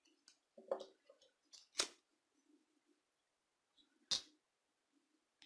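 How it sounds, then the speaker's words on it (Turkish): Scissors snip crochet yarn in two short, faint cuts a couple of seconds apart, with soft handling rustles between them in a quiet room. "Makasımızla biraz boyunu kısaltıyorum."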